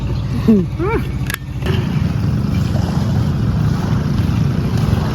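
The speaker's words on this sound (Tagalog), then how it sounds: "Wala na ang mga bangka naglumbaanay." Racing motorboat engines drone steadily under wind noise off Talikud Island, Philippines, with a brief chirpy call and a sharp knock early on.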